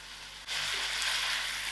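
Sudden loud sizzle as one large grated tomato hits hot oil in a frying pan while cooking aloo gobi, a bright hissing crackle that starts abruptly and stays steady.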